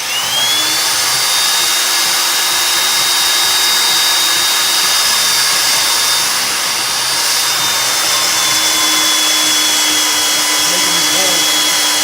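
A power drill bores holes in metal for a truck headache rack, with cutting oil on the bit. It gives a loud, continuous high whine that holds steady for the whole stretch, with no talking.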